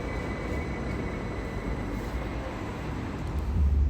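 A white and pink commuter train runs through Helsinki, heard as a steady low rumble and rolling noise from the rails, close and continuous, growing a little louder and heavier toward the end.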